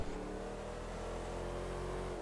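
A car in GTA V drives with its engine revving in a steady, loud, close drone that slowly climbs in pitch, with no talking.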